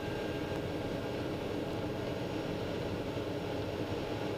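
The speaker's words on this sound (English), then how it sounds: "It's always fun flying this airplane, one of my favorites." TBM850 turboprop airplane taxiing after crossing a runway, a steady broadband engine drone and whine heard from inside the cockpit, constant and moderately quiet with no speech.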